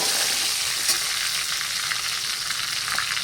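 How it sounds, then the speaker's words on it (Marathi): Crushed garlic fries in hot oil in a pan after mustard seeds have popped, browning for a home-style vegetable dish; a steady, close, dense sizzle runs throughout with faint stirring scrapes and no talking. "लसूण टाकून घेऊ बघा लाल होईपर्यंत आपल्याला लसूण भाजून घ्यायचा"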